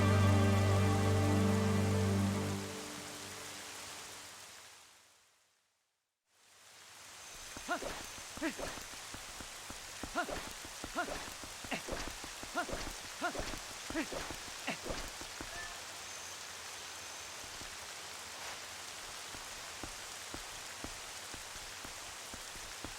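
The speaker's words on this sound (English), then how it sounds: "And now it's raining." Steady rain falls in the video game The Legend of Zelda: Twilight Princess, a dense wash of patter with scattered sharper drops, continuous and fairly loud after a brief silent gap, with no talk over it.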